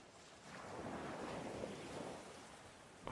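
Ocean surf washes in a broad, steady roar with gusty wind noise, swelling gently and then holding, with no voices over it.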